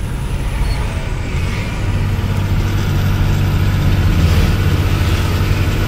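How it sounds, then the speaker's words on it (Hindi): A superbike passes on a mountain road cut through the hills, a loud, steady engine roar that holds and swells slightly across the whole stretch, with no talking. "सुपर बाइक একটা গেল।"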